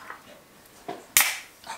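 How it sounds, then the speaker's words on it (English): A can of Cherry Coca-Cola cracks open with a sharp, close pop, then a brief hiss fades out in a quiet room. "So we're going to crack the can."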